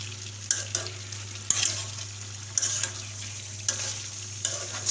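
Mashed taro stem is stirred as it fries in a pan, a constant close sizzle under a low hum, broken by several sharp scrapes and clatters of the spatula; no one speaks.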